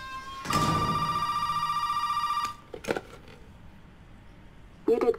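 An old telephone ringing in the horror game Resident Evil 7: one long, loud electronic bell tone for about two seconds, then a click and faint handling noises before a brief rustle.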